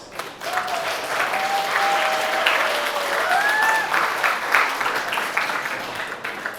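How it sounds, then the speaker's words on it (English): Sustained applause from a school audience at a Dragons' Den style student pitch event, dense steady clapping for several seconds with a few cheers or whistles rising above it. "Give yourself another round of applause."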